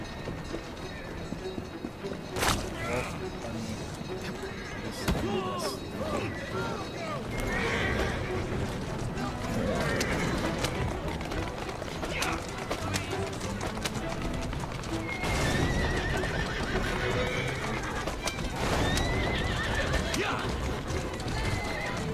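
Horses in Assassin's Creed Syndicate gallop with a steady clip-clop of hooves, whinnying now and then amid busy street sounds, all fairly close and continuous throughout.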